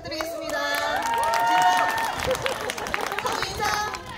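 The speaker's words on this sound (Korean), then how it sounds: "나레이션 겸 작가 유가연 큰 박수 부탁드리겠습니다." Audience applause at a community arts presentation, with clapping and cheering from a crowd mixed with hubbub and a voice talking over it, steady throughout.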